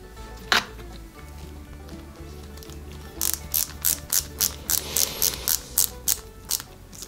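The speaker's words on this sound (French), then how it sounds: "Les trous sont bien alignés et c'est parti pour le vissage" Screws are driven by hand into the plastic parts of an Eaglemoss Ecto-1 model kit from Ghostbusters: a close series of about a dozen crisp, evenly spaced ratcheting clicks after an earlier single snap, over faint background hum.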